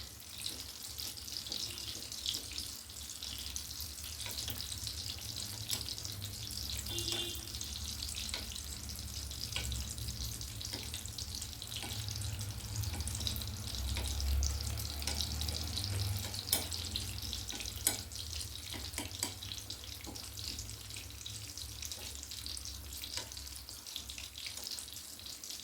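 Sugiyan fry in hot oil with a steady, close-up sizzle and crackle that carries on evenly for the whole stretch, with occasional faint clicks and no talking.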